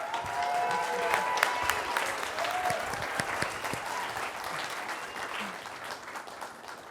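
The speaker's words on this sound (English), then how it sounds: "Give a round of applause for Tracy." Sustained audience applause at a live university event fills the room steadily for about seven seconds, dense clapping at a fairly even level with faint voices scattered underneath.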